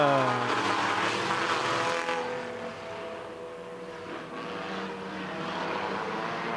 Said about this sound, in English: Green flag in the air, we're racing.